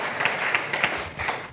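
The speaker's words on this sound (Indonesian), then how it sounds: "mau berikan tepuk tangan meriah buat Tuhan" Applause from a congregation at an online church service, a steady wash of clapping lasting about a second and a half with no voices over it.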